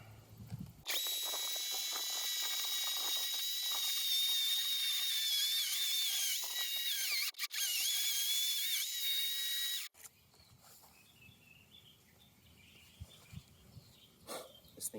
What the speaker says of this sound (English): Let's see if we have enough battery life in this chainsaw